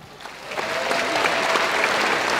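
Audience at a Ghanaian comedy show breaking into applause that swells from scattered claps into a full, sustained round, heard from within the crowd.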